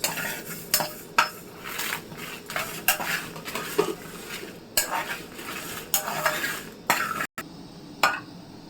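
Fish frying in a pan for a Telugu-style fish curry, with a metal spoon repeatedly clinking and scraping against the pan over a soft, faint sizzle.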